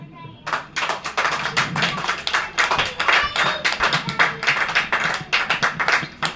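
A church congregation claps together in a steady, loud burst of rhythmic hand claps that runs from just after the start to the end.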